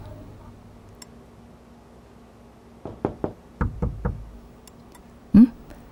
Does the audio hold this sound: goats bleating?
no